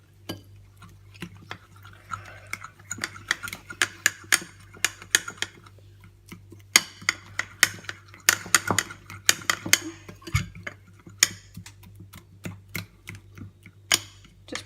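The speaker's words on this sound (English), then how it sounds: "And whisk this till you get all the lumps out." A fork whisks batter to break out the lumps, rapid clicking taps against the bowl in uneven bursts, close and fairly loud with no voices.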